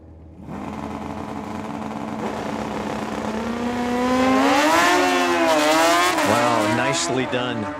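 At a Tucson drag strip, a 1996 Kawasaki ZX9 and another drag-racing motorcycle rev hard together, their engine pitch climbing and wavering into a loud, rising howl before dropping away, with a track announcer talking throughout.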